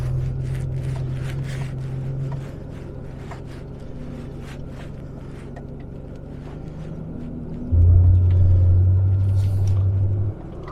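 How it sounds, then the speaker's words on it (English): A Range Rover P38 engine-brakes downhill in snow in low gear, a steady low engine drone under interior rumble that grows louder and deeper near the end, with no talk. "It's really cool to feel sort of the engine just doing all the braking for you."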